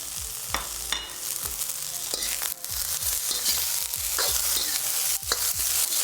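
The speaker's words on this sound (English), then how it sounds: "Start by stir frying your garlic and shallots, then your rehydrated mushrooms" Constant sizzling with intermittent scrapes and clacks of a utensil stir-frying garlic, shallots and rehydrated mushrooms in a hot pan, close up and steady, no voices.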